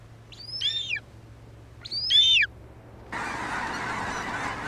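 A bird of prey gives two sharp, ringing calls about a second and a half apart, each falling in pitch. A sudden steady burst of broad hiss follows and carries on to the end.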